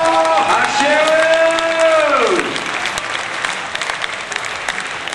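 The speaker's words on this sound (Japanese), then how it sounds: "皆様もう一度大きな拍手を。" A crowd at a BMX flatland contest final claps and cheers after the final, continuing steadily after an amplified voice trails off at the start.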